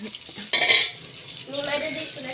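Potato bread rolls slid into hot oil, a sharp burst of sizzling that flares up and then settles into a continuous bubbling fry, close by and without speech.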